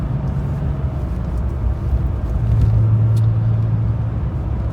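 A 1998 Porsche 911 (993) Turbo coupe, an air-cooled S-specification model, drives along a farm road, its engine a steady loud low rumble with a slight rise in pitch partway through, heard from inside or close by with no voices.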